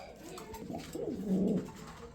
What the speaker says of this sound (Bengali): এখানে দেখতে পাচ্ছেন একজোড়া স্প্যানিশ পোটার